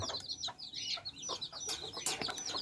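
A hen and her ten chicks make faint clucks mixed with rapid high peeping from the little ones, a quiet, busy chatter that continues throughout, with no talk over it.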